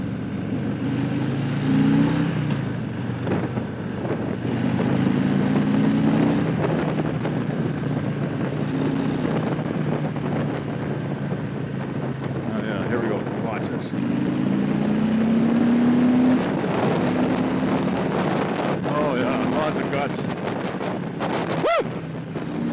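A Harley-Davidson Fat Boy motorcycle on a demo ride gives a steady rumbling engine drone with two upward-sweeping revs, mixed with constant wind buffeting and a sharp click near the end.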